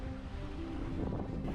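Sailboat under sail with the engine off, moving with the wind near a marina in Belize; steady water wash and wind rush against the microphone, continuous and fairly close, with no voices.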